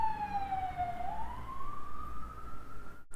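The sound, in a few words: ambulance siren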